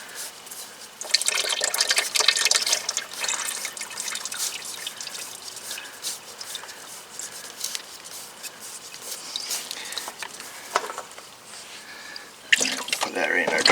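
Engine oil drains from a Kubota B2601 tractor into a drain pan, a steady liquid trickle and patter that swells and fades over several seconds, fairly close.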